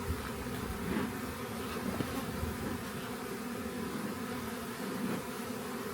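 Honey bees in an open hive drone in a dense, continuous buzz that stays close and steady from start to finish, with no speech.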